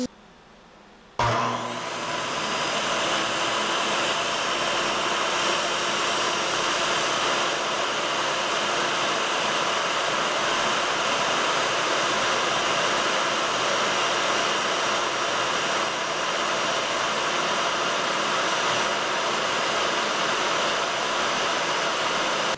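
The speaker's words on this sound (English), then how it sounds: "Let's have a look, see how fast this saw blade is turning." A power saw blade spins at speed, a loud, steady high whine with a broad rushing hum that starts abruptly after a second of near-silence and holds unbroken to the end.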